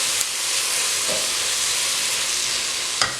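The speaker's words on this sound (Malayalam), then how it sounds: "വീണ്ടും ഇതെല്ലാം കൂടെ നന്നായിട്ട് ഒന്നുകൂടെ വഴറ്റണം." Onion, ginger, garlic and green chili sauté in a hot pan for a beef biryani with kappa, giving a steady close sizzle and hiss, with a couple of brief stirring scrapes.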